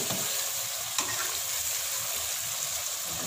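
Pieces of already fried chicken go into a hot pan for chicken karahi, giving a steady, close sizzle and frying crackle with light stirring scrapes throughout.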